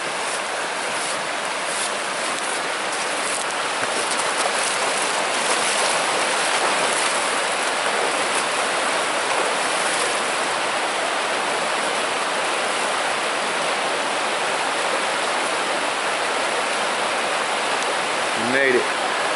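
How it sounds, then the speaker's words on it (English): River water rushes steadily during a crossing on foot in the dark on a Wyoming archery elk hunt, a continuous broad flowing roar that stays close and even throughout, with people talking now and then over it. "Back across the river again."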